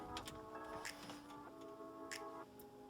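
A torque wrench tightens the bolts on a car steering wheel to 35 foot-pounds, giving a steady run of faint, rapid mechanical clicks and ratcheting ticks, close by and with no talking.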